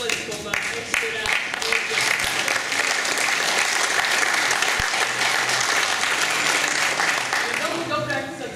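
Audience applause filling a hall after a folk ensemble's 50th-anniversary performance, steady and loud throughout, with some voices mixed into the sustained clapping.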